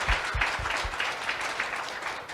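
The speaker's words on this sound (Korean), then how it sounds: "모든 분들께 박수 한번 부탁드리도록 하겠습니다" An audience at a talk concert on AI-integrated education applauds the guests with sustained, even clapping from a crowd, heard close and alone without any voices.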